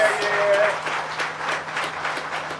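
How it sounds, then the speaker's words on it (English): Audience clapping at the grand opening of a government registries building, a brisk steady patter of many hands heard with a voice speaking over it. "Give them a big round of applause."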